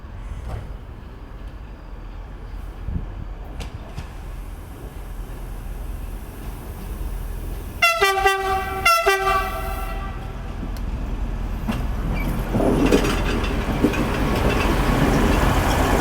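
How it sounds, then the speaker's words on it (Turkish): The Ödemiş train rumbles by with a steady rolling noise, and its horn blasts twice in quick succession midway, loud and nearby. "Ödemiş treni vardı ve gidiyor."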